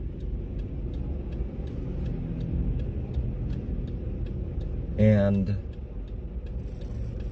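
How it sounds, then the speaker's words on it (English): Saturday night street traffic on Las Vegas Boulevard in downtown Las Vegas, a steady low rumble of passing cars with a brief louder swell midway, and someone speaks a word over it. "Saturday night traffic here"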